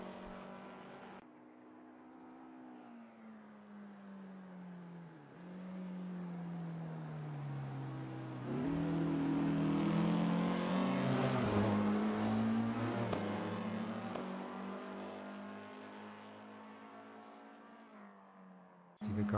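A Porsche 356 engine climbs the Goodwood hill in a racing game, a steady droning drive that swells and revs higher in the middle before easing off, continuous and close with no talk.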